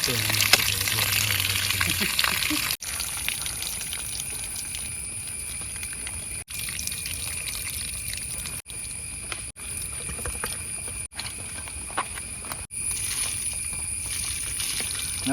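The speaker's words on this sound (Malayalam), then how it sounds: "നമ്മൾ ബീഫ് നന്നായി കഴുകിയിട്ടോ" Boneless beef pieces are washed in water in a Kerala village kitchen. Water pours and splashes steadily, with a few short breaks, and a voice talks over it.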